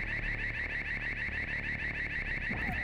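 An alarm sounds in the video game Clock Tower, a steady, rapidly pulsing electronic beep that repeats evenly throughout.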